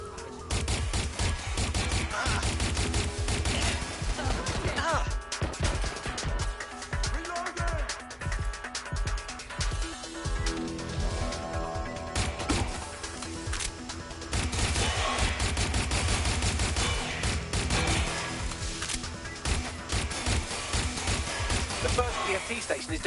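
Sustained gunfire in Watch Dogs Legion aimed at exposed weak points, dense rapid shots and crashes layered with game effects and music, continuous and loud throughout.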